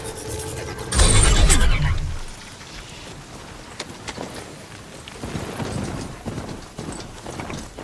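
Horse hooves gallop in Horizon Zero Dawn Remastered, opening with a loud burst of pounding, then settling into quieter rhythmic clopping over a patter like rain.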